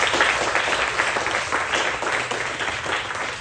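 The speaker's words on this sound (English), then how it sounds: "One more round of applause for the two features." Steady, full applause from the audience at a poetry reading, many hands clapping continuously at an even level with a faint background hiss, no voices over it.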